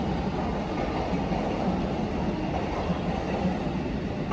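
Limited express train at JR Shinjuku Station, a continuous low rumble and rolling rattle from the platform throughout, while a platform announcement plays over it.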